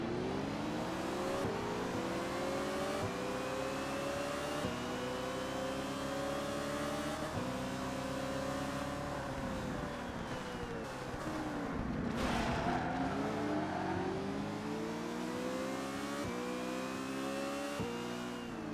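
Roaring V8 Supercar race car engines at Oran Park in the ToCA Race Driver 2 video game, loud and continuous with rising and falling revs through gear changes, a brief tire-skid flurry midway.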